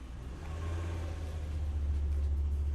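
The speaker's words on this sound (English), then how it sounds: "that car thanks you too that just drove by" A car passes outside at night, a low engine rumble swelling steadily and staying fairly loud and close, alone with no talk.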